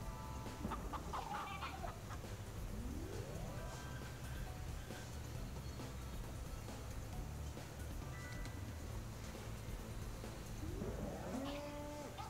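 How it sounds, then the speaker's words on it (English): A cow moos in the video game That Dragon, Cancer, with long low calls among clucking farm fowl over a constant ambient drone, faint and fairly distant, with no speech. "It's a cow."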